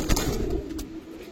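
Giribaz pigeons coo softly inside a cage, a low throaty burble swelling and fading over about a second, faint and close with no talking.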